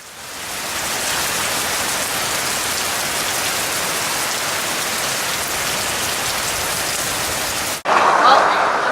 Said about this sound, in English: it doesn't look like the rain's going to let up anytime soon